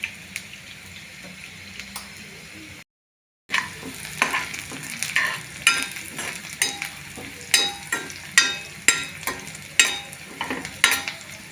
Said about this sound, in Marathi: मी तेल टाकून घेतलं आणि इथं कांदा टाकून घेतलेला आहे. नंतर अद्रक लसूण पेस्ट टाकायची आहे त्याला.